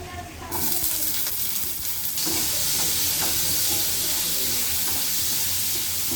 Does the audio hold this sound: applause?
no